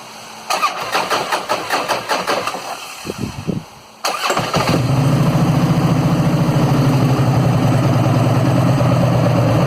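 A Harley-Davidson motorcycle engine with a modified five-spring compensator cranks with a rapid clicking starter, catches on the second try, then settles into a loud, steady, lumpy idle close by.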